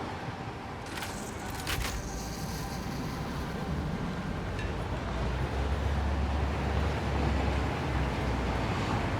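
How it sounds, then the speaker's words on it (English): A train rolls along its track in the video game Satisfactory, a steady low rumble with a broad hiss that builds slightly and continues throughout, with no talk over it. "Right, let's just take this train now."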